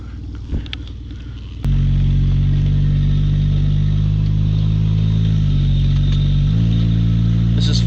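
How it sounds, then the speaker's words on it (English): A Lexus LS400 engine at full throttle in its torquiest gear, struggling for power: after a brief quiet start, a loud, sustained, close drone with deep steady harmonics and a slight shift in pitch. "This is full throttle in the torquiest gear."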